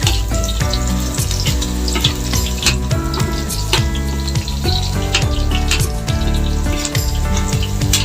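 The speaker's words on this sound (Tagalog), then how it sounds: "Yan na po ang ating bawang mga kaibigan. Ginigisa ko na po." Garlic sautéing in hot cooking oil gives off a loud, continuous sizzle, with stirring clatter and kitchen noise layered over it throughout.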